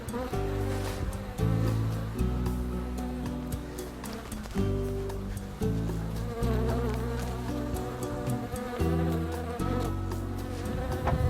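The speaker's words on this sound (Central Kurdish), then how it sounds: "ئەمە هەنگە شەکەریەکانمان" Honey bees fed on sugar syrup buzz loudly and close at hand, a dense droning swarm with overlapping wingbeat tones that pulses and shifts every second or so, with no talk.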